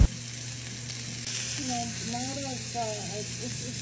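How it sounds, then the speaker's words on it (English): Steak sears in a hot pan for a teriyaki bowl, a loud, steady hiss of frying fat close up, while a person talks briefly over the sizzle partway through. "First, searing the steak."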